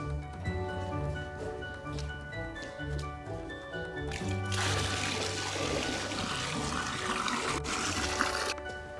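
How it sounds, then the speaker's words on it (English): Zinc sulfate solution is poured from a bucket into a sheep footbath, a rushing, splashing pour that starts about midway and runs steadily and fairly loud to the end. "Then we'll pour it evenly into the footbath."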